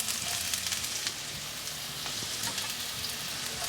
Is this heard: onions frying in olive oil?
yes